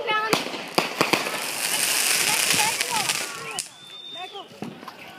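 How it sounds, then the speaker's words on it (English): Fireworks set off down the street burst in several sharp, echoing bangs with a crackling, sizzling wash between them, heard from some distance while voices shout and talk excitedly. "My friend Marlon is doing those fireworks down there."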